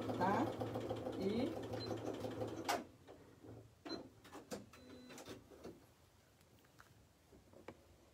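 A sewing machine stitches doll's clothes in short close runs for the first few seconds, then stops for handling noises and a few faint clicks, with someone talking throughout.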